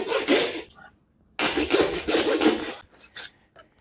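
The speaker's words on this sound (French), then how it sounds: "Tu prends la scie et tu coupes." A hand saw rasps through meat in a few short, close strokes with brief pauses between them, the last strokes quick and choppy.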